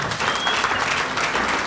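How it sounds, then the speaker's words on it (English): Steady, dense applause from an audience standing at a youth empowerment gala, a continuous wash of many hands clapping at close range with no break and no talking over it. "Stand and give her a round of applause for all the things that she's done."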